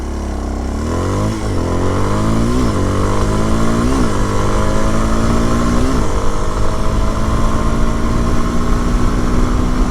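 Kawasaki KLX230SE motorcycle accelerating hard from a standstill to 60 mph on a road. The engine note climbs loudly and close, with distinct drops and rises at each gear shift as it revs up.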